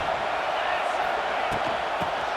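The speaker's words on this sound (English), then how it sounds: "This crowd bringing the energy and noise early." A stadium crowd in the EA Sports College Football 26 video game roars in a steady, loud wash of cheering that holds throughout, with a commentator's voice faintly mixed in.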